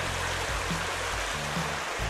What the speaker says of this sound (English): Here's our first little shot of Rush Creek